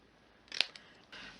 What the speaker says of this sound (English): So we will just trim that up.